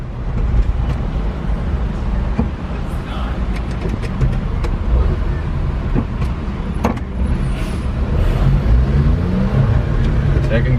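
A 1992 Suzuki Carry 4WD kei mini pickup truck drives along with a loud, steady engine drone and cabin rumble heard from inside, while people talk over it.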